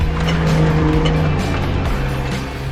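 A 4WD Toyota 80 Series with a plastic Safari snorkel climbs a bush track, its engine droning loud and close with steady rumble and shifting revs, no talking.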